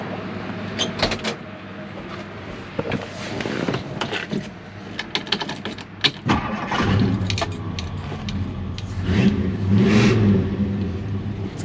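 Engine of a 1964 Ford Galaxie 500XL fitted with Flowmaster mufflers, with a cam rumble: jingling keys and clicks, then the engine cranks and catches, settling into a close, low, loping rumble that swells with a few revs.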